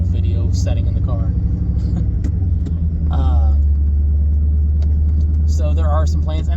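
Interior of a car being driven, with a steady low engine rumble and road drone running continuously underneath a man's close, clear speech.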